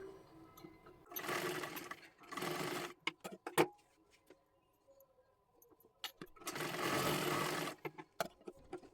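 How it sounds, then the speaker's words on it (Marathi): A sewing machine stitches along the edge of a saree being made into a dress, running in two quiet, steady bursts separated by a pause with soft handling clicks. "इथे एकदम कडेकड्याला एक शिलाई मारून घ्यायची आहे"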